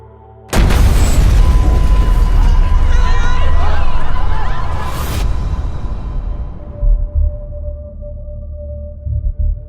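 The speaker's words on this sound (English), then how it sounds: "There was an explosion" A sudden, loud explosion bursts in and rolls into a sustained roaring rumble for several seconds, then fades to quieter scattered noises.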